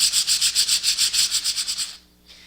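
Sanding a gingerbread house surface makes a rhythmic series of about fourteen quick, close, scratchy back-and-forth strokes, then stops abruptly before a faint final rub.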